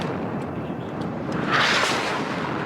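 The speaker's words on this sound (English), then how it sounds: "Looks like the artillery's going after the Gepard and tanks. Not landing any shots." Artillery fire in the real-time strategy game WARNO, with dull distant booms and a swelling rumble under continuous battlefield noise.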